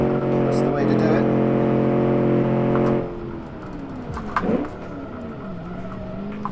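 A 1956 Gasmea race car in the Automation driving game roars at high speed with a steady, loud engine drone that drops off after a few seconds, then quieter tire and engine noise follows.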